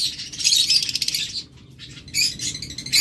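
A blue masked lovebird pair in a shop for sale, giving shrill rapid chirps and chatter in close bursts with a brief pause midway, no talk.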